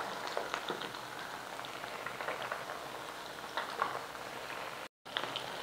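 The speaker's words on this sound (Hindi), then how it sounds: "तो अब हम इसको फ्राई करते हैं।" Noodle-coated finger fish frying in a pan of oil, giving a steady soft sizzle and crackle with scattered pops, fairly quiet and close.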